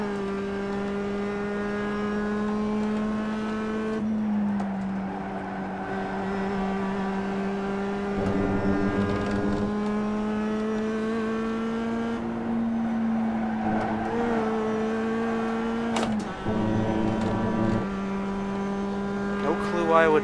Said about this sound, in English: it just pops out of gear like that